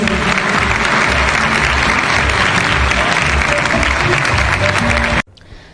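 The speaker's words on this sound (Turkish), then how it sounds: "kocaman bir alkış istiyoruz" Loud, sustained applause from a large crowd fills the room, then cuts off abruptly near the end.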